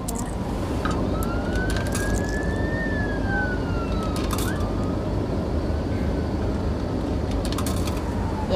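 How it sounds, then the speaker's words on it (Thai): A wailing siren sweeps up and down, moderately distant, over a constant hum of road and car noise near a hospital. "ยินเสียงหวอบ่คะอยู่โรงพยาบาล"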